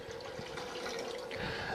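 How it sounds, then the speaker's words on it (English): Water pours into the hopper of a portable ice maker, giving a steady, close trickling and splashing stream that lasts a couple of seconds with no voices. "And you basically just pour the water in."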